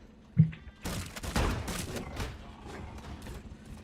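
Bursts of gunfire in the video game Drilling Thunder, a rapid cluster of shots that trails off into scattered fainter pops.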